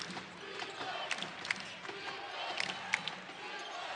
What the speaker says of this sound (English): Now the crowd trying to implore Belmont into a stop.